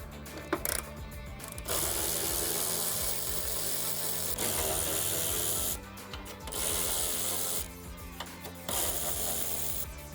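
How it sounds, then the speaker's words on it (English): A ratchet on the front strut nuts of a 2024 Mustang clicks steadily in long stretches with short pauses, quiet and close, with no one talking. "you're going to want to take off these three nuts here that hold on the strut"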